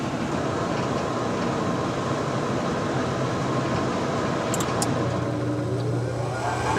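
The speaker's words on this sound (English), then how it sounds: "There goes the inducer fan." A York furnace inducer fan runs as a steady, loud whooshing hum, with a faint rising whine near the end as it spins up.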